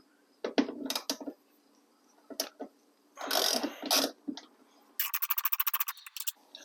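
Screws being backed out of a Honda Civic rear door panel: several short bursts of ratcheting, clicking driver and screw turning, close and fairly loud, ending in a rapid series of sharp ticks.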